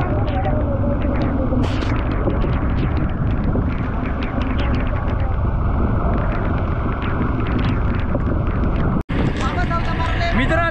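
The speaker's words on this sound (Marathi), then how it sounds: "आधीपासून तर आता डबल झालाय वारा" Strong wind buffets a fishing boat in the deep sea off Mumbai during a sudden storm, a loud continuous roar and rumble filling the whole clip, with a brief dropout near the end and voices talking over it.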